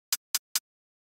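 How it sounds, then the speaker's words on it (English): Three short, crisp closed hi-hat hits from a techno drum sample, evenly spaced and isolated against silence. "The sample that we are using is a simple close hat"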